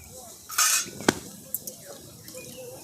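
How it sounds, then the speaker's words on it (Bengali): A bowl of water is poured into a wok on a lit stove to start a sugar syrup: a brief splash, then a sharp clank of cookware and a few softer knocks, with a faint voice. "দিয়ে দিচ্ছি 1 বাটি জল।"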